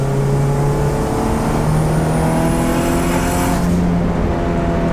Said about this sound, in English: I really like getting into boosts at like usually at a higher RPM, so it actually pulls